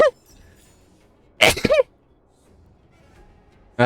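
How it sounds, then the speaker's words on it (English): One sharp, loud sneeze bursts out close to the microphone, bracketed by a quiet, faint background with a couple of brief vocal sounds at the edges. "Sorry, I had to sneeze right there."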